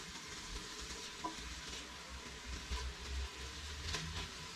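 Veal pieces browning in a pan for blanquette de veau, a quiet, steady sizzle with faint stirring and occasional soft taps against the pan, no voices.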